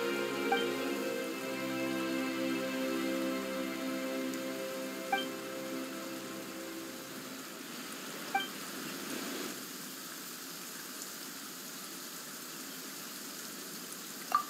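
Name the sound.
rain falling in the video game Genshin Impact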